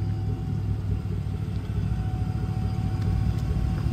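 A 1967 GMC C10 Super Custom pickup's engine idling, a steady low rumbling drone with an even, continuous tone, close and moderately loud with no talking.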